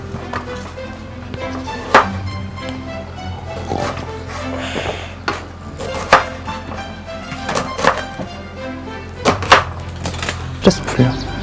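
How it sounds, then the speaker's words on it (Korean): A knife chops onions on a cutting board in a home kitchen, giving sharp, uneven thunks in bursts, close and distinct, with people chatting quietly in the background. "너가 양파 좀 썰어줘."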